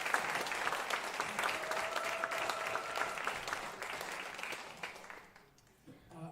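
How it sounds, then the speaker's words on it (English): An audience at a documentary screening and panel on liberation applauds in a sustained round of clapping, moderately distant, tapering off toward the end, with a brief tonal sound and a voice starting at the close. "So let's have another round of applause and thank you for this."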